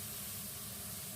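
Beef stir-fried in a pan over high heat gives a steady, loud, unbroken hiss of sizzling throughout, with no voices.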